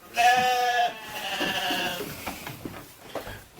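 A single sheep gives a drawn-out bleat up close on a sheep farm in Norway, followed by quieter rustling and faint shuffling.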